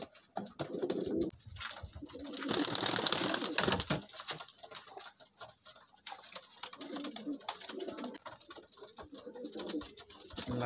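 Soft, low pigeon coos repeat in Amritsar under a hissy, rustling background, fairly quiet and close, with no voices.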